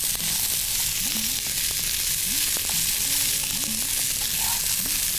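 Green peas sauté in a pan over a low flame with a steady, even sizzle and light crackle, close and continuous throughout.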